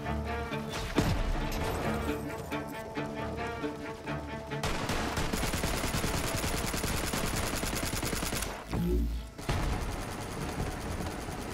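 Rapid turret gunfire in the Borderlands 3 shooter, a loud, sustained stream of automatic shots with brief pauses and a few heavier impacts mixed in.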